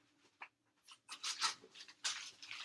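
Rusty the dog makes faint, close snuffling and rustling sounds in short irregular bursts, with quiet pauses between them.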